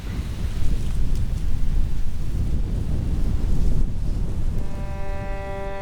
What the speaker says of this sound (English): Not the best wind. Kind of blowing like that.